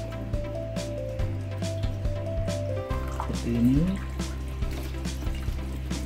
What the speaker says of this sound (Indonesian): Kita bilas pakai air mengalir supaya kotorannya juga ikut